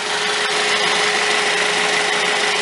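A 2010 Mazda 3 engine running steadily, a broad continuous hum with a faint thin whine from small headlight cooling fans, close and even throughout with no talk.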